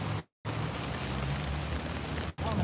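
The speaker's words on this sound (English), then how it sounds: "Look at this rain." Heavy rain falls in a steady, dense hiss close by, broken by brief moments of total silence.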